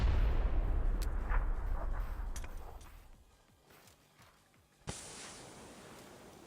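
Grenade explosions in a Call of Duty-style competitive video game match: a heavy rumbling blast fills the opening seconds and gradually fades, then a sharp new detonation cracks out near the end and leaves a lingering roar.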